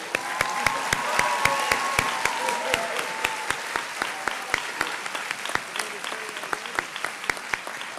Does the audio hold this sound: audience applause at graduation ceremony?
yes